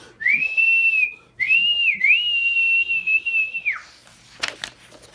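Two long, wavering whistled notes, loud and close, with a short gap between them and quiet afterward.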